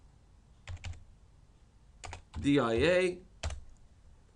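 Computer keyboard typing in short bursts of clicks during SolidCAM CAM software work, with a brief stretch of nearby talk between the bursts.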